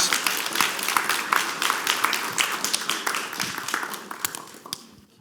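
An audience at a lecture claps in sustained applause, dense and even at first, then thinning into scattered individual claps before fading out.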